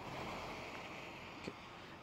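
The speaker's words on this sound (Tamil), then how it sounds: "ஓ தண்ணி செமையாக போகுது, மழையும் பெஞ்சிட்ருக்குது" Stream water rushing steadily during rainfall near Siruvani Road, a broad continuous wash of flow with some wind noise on the microphone, fairly faint and without speech.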